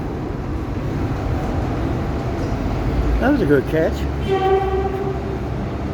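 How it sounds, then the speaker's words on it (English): A track inspection train rumbles through Town Hall station in Sydney with a continuous heavy rolling roar, squealing wheel tones and a sustained horn-like pitch midway, as a voice speaks briefly over it. "That's a track inspection train at Town Hall."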